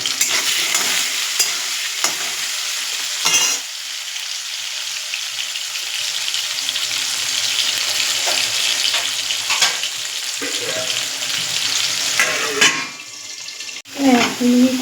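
Potatoes and bori frying in a pan, with a steady close sizzle and occasional stirring scrapes, the sizzle briefly flaring loud as a lid is handled near the end.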